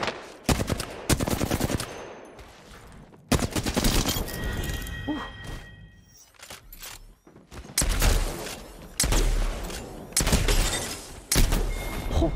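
Bursts of rapid automatic gunfire from Apex Legends played on R5Reloaded in a 1v1 fight, loud and close, in several separate volleys with short pauses between.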